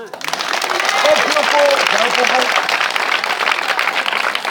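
A church congregation claps and cries out in acclaim, sustained applause swelling quickly and holding loud, with raised voices and cheering woven through the clapping.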